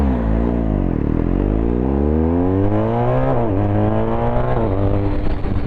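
Motorcycle engine under load while riding, loud and close, with a droning exhaust note that dips then climbs steadily as the revs rise and shift, alone without talk.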